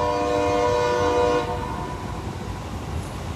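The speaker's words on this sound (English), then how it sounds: "We'll let the train go through." A passing train sounds a long, loud horn chord over rumbling wheels for about a second and a half, then the horn cuts off and steady clattering rail noise continues.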